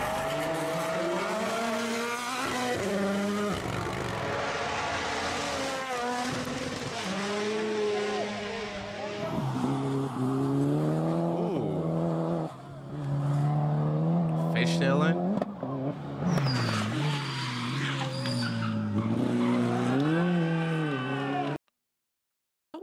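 Rally cars race and skid, engines screaming through repeated revving swells and gear changes, loud and close, with people talking over them before a sudden cut to silence near the end.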